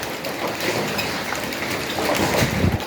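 Hail pelting down in a dense, steady roar during a tornado storm in Tongaat, a continuous broadband clatter that swells slightly louder toward the end, with no voices.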